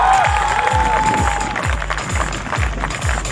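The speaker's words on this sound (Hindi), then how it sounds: "एक बार जोरदार तालियां हो जाए मैडम की।" An audience at a university prize distribution ceremony applauds for a top-ranking intern doctor, with rhythmic claps and crowd noise close by, strong thumping beats recurring about twice per second under a faint whistle-like tone.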